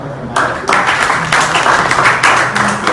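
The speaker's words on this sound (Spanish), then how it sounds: "Vamos a darle un fuerte aplauso a ese maestro." Audience applause for a teacher during a classroom lecture on teaching methods: a sudden burst of many hands clapping swells in and holds as a dense, steady wash, with a brief dip before rising again.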